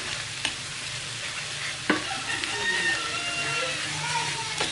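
Butter garlic seafood cooking in a pan gives a steady, close sizzle with a few sharp stirring clicks and scrapes, continuous and moderately loud, with no talk.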